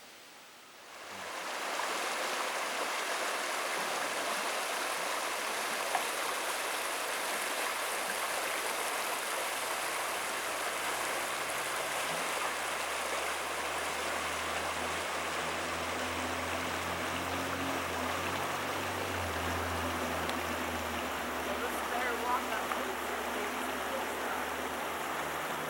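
Steady rushing flow of the Big South Fork River at Leatherwood Ford, running low, a broad continuous wash of water heard close and even throughout, with a faint low rumble underneath and no voices.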